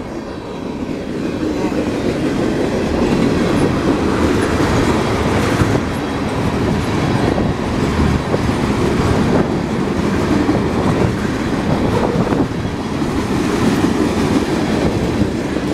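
A heavy freight train rumbles past close by, steady clattering of wheels on rails with occasional metallic squeals, continuous and loud throughout.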